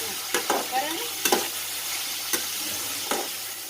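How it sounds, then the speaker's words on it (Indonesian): Meat and shallots fry in a pan while being stirred, a steady sizzle punctuated by repeated close scrapes and clacks of a spatula. "kita aduk ya guys, aduk biar merata"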